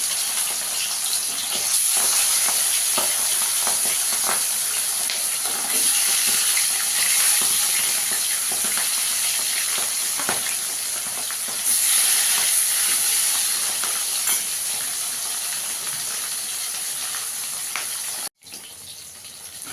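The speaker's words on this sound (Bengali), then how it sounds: "এবার মাছগুলোকে একটু ভেজে নেবো।" Small fesa fish fry in hot oil in a kadai (wok), giving a loud, continuous sizzling hiss that surges and eases in waves for about twenty seconds before a brief clunk near the end.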